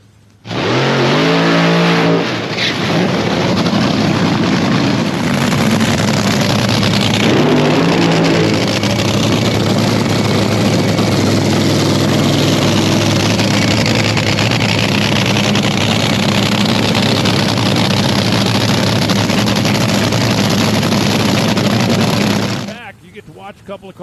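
Drag racing cars roar loudly down the strip almost nonstop, with engine noise swelling and shifting across the run before cutting off near the end; a commentator talks over them.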